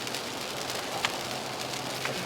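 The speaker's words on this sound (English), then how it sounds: "because it's raining and I can't stop anywhere" Rain falls in Fallout New Vegas near Las Vegas Boulevard as a faint, even hiss, with a few soft drop ticks scattered through it and no voices.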